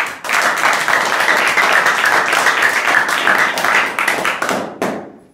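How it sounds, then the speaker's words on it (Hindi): Students at an inter college assembly break into dense, sustained clapping that fills the room for about five seconds at close range, then trail off into a few scattered final claps. "वेरी गुड, ताली बजाओ।"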